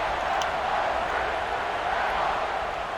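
A football stadium crowd in a college football video game set at an away game against Ohio State produces a steady, dense roar that holds at constant loudness throughout, with no distinct voices standing out.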